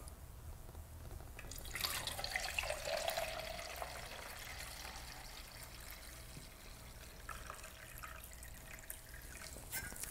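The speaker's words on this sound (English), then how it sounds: "I'm going to just very carefully pour as much as I can" Silver bath solution for collodion photography is poured carefully into a container, a soft continuous trickle and splash that swells early and then settles into a steady faint flow.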